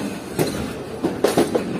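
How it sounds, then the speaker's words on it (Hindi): Allama Iqbal Express (10 Down) standing at a railway junction station where the Rohri–Chaman main line branches off, with scattered rail clanks and wheel knocks over a steady station hum. "और 1 पर इस वक्त खड़ी हुई है 10 डाउन अल्लामा इकबाल एक्सप्रेस"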